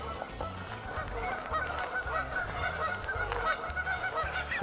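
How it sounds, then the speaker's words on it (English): Geese honking on a river at a park, a flock of roughly twenty birds calling repeatedly in loud, overlapping honks nearby, with no talk. "But then I've got geese on this side, actually on the river."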